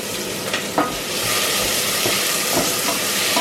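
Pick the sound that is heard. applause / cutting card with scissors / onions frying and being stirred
onions frying and being stirred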